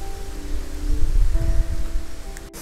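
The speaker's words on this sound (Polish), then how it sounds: "Pogoda nie sprzyja, bo jest zimno, pada deszcz" Soft, cold rain patters steadily in a faint wash of noise, with a low rumble and a faint hum beneath it.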